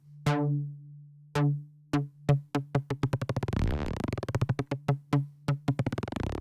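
Native Instruments Massive X synth note played with a shortened, looping decay, giving sharp plucked hits that start spaced apart, then speed up into rapid stuttering ratchets and triggers, alone without talk.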